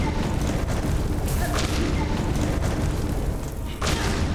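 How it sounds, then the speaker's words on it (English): Loud grenade explosions burst in Silksong, a booming, continuous barrage of heavy thuds and blasts that fills the whole clip without a break. "Dude, the explosions right now are so loud."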